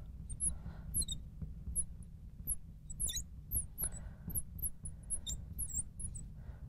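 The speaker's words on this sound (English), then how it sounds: "I got a squeaky marker." A marker squeaks across a board during a chemistry lesson, making a string of short, high, uneven squeaks that are fairly faint over a low room hum, with no talking.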